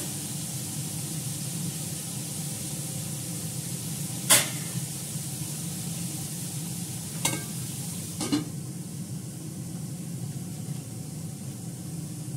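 Green chillies go into a hot pan, and a steady broadband sizzle of frying fills the clip. Three brief sharp clatters of utensil against pan stand out against the frying.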